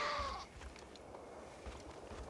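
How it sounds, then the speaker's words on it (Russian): A single goat bleat rings out at the start in Far Cry 5, short and moderately near, followed by a quiet outdoor ambience with soft rustling and no talk. "Так, это козы. Козы неинтересны."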